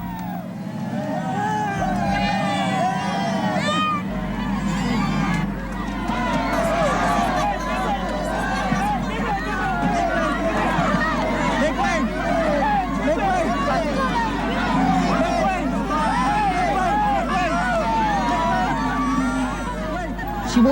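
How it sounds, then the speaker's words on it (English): A large crowd of supporters surges around Imelda Marcos, a dense, continuous babble of many voices pressing close with a steady, unbroken roar. "The crowd surged forward to envelop her in support, to comfort her."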